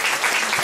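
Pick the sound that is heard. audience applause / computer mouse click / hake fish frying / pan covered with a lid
audience applause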